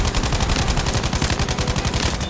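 Rapid automatic gunfire from the video game Battlefield 5 rattles loudly and continuously in dense, evenly spaced bursts with no pauses.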